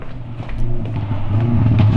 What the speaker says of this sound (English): It drives past my house every day and revs his car in neutral as if I care.